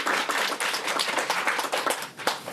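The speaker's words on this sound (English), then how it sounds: "Round of applause for the S's." Audience applause at a leadership seminar, a short burst of many hands clapping, moderately loud and busy, continuing steadily without speech.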